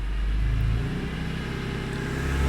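A BMW E46 M3 with an S54 engine accelerating hard with its tires spinning and traction control cutting in: a loud, close, steady engine drone with a deep low rumble throughout.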